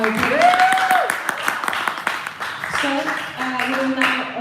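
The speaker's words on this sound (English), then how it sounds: "Can we please have a round of applause?" Audience applause at an election candidates' question-time event, steady clapping throughout with voices talking over it.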